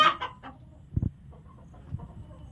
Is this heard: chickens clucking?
yes